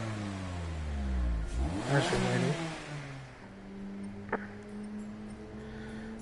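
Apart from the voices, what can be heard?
car engines revving before race in GT Sport video game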